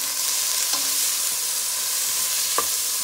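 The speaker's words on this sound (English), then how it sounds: "I'm gonna give this a mix." Seasoning for bora cooking in a pot makes a loud, steady sizzle, with a couple of sharp scrapes and taps as a spoon stirs it.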